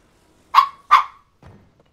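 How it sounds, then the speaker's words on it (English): A dog barks twice in quick succession, loud and close, in the Zelda: Tears of the Kingdom game. A fainter, softer yip follows, and there is no talk. "You're just barking all over the place"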